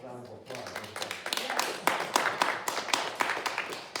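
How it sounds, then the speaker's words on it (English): A small group at a school board meeting gives a round of applause, scattered individual claps rather than a dense roar, close and fairly quiet, starting after a brief voice and continuing for a few seconds. "So I want to give the board a round of applause."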